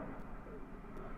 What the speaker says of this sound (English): That is the plane flying over.